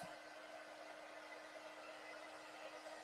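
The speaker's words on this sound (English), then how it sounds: "And this is our quick dry tool. It has a little bit of heat." Small low-heat quick-dry tool blowing over a Chalk Couture Halloween surface, a steady whirring airflow with no talk, faint and constant throughout.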